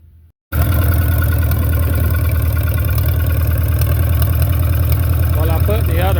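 A Ferguson TO30 tractor engine chugs steadily at idle after a brief quiet start, a loud close rhythmic putter with a noisy exhaust, running evenly throughout.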